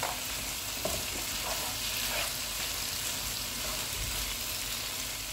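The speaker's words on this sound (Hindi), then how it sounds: "इसमें मटर डालेंगे और इनको भी 2 मिनट तक भूनेंगे" Peas fry in oil in a pan while vegetable biryani is being prepared, a steady close sizzle with faint stirring scrapes and small pops, heard alone without talk.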